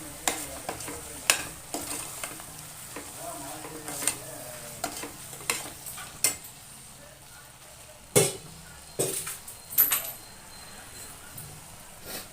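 Green chillies and spice powder sizzle and fry in a pan for palak paneer, stirred with a spoon that scrapes in irregular strokes and small clinks, close and clear with no talk.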